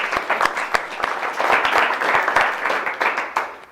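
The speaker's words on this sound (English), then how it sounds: "can I just give yourselves a little round of applause to kick this thing off" Audience applause at a nurses' town hall meeting in a hall, a mix of scattered sharp individual claps and fuller group clapping, near and lively, rising and dipping in waves.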